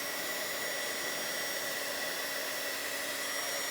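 A heat embossing tool blows hot air in a steady, close, even whoosh that holds without a break throughout.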